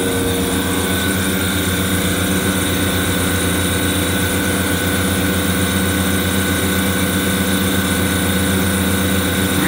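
An air conditioner condenser fan motor runs at full speed beside a clean condenser coil, giving a loud, steady, droning mechanical hum with constant whirring tones and no change in level.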